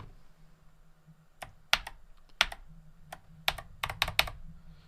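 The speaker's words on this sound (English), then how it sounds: "Trying the keyboard." Keys clicking on a computer keyboard hooked to an Atari VCS, irregular bursts of close, crisp taps separated by pauses over a low steady hum.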